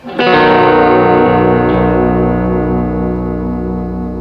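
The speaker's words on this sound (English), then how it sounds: "Vibrato, this is pitch shifting vibrato that you're hearing on this amplifier." A low, sustained chord from a baritone Telecaster-style electric guitar rings out with a wavering pitch-shifting amp vibrato, thick and slightly distorted, fading slowly with no talking.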